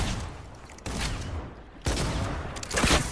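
Gunfire in Fortnite, several sharp, loud bursts of shots fired in quick succession, each one a sudden blast followed by a short decaying rumble, with a brief rapid volley near the end.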